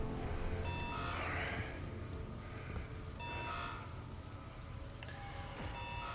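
Repeated electronic beeps from a purge cycle alarm in the video game The Callisto Protocol sound at regular intervals over a dense, steady hum and rumble, moderately quiet and somewhat distant.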